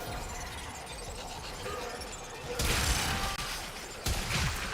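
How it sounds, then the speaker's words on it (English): Video game explosion: a sudden dense burst of noisy crackle that rises out of a busy background, holds for about a second, then returns in a second shorter burst. "Oh, it's an explosion."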